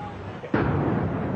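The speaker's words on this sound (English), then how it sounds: "We just heard another explosion." A deep explosion booms at the site of the 9/11 attacks in New York, a sudden heavy blast that leaves a long, loud rumbling roar behind it.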